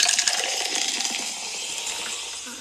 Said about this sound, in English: Pour you a nice glass of some Kool-Aid.